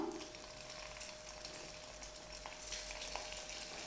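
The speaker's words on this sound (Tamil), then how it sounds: "எண்ணெய் சூடான உடனே நம்ம கட் பண்ணி வச்சுருக்கக்கூடிய இட்லியை இந்த எண்ணெயில் போட்டு கொஞ்சம் ஃப்ரை பண்ணி எடுக்கணும்." Pieces of cut idli fry in hot oil in a home kitchen, a soft, quiet sizzle with faint crackles and a low steady hum beneath.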